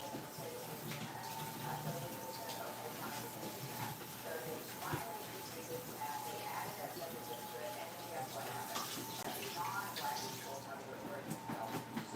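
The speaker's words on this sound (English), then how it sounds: "I'm gonna wash the potato." Running tap water pours over a potato being washed by hand, a quiet, steady broadband rush that stays even throughout with small irregular splashes.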